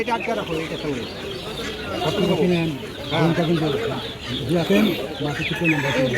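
Chickens and ducks at a crowded Birnagar pet market haat cluck in repeated bursts close by, mixed with busy crowd noise and someone talking over them.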